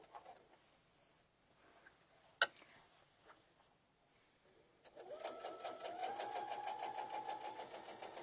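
Sewing machine top stitching a quilted fabric Easter basket with foam inside, starting after about five seconds of quiet handling and running steadily at a moderate close pace with no talk.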